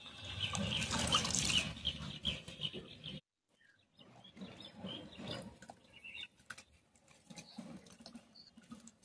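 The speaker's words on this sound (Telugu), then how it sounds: "ఎక్కువ నీళ్ళు పోసి కడగాలి ఫ్రెండ్స్ గోంగూరని." Gongura (sorrel) leaves washed by hand in a pot of plenty of water: loud churning splashes for about three seconds, a brief pause, then lighter intermittent patters and drips.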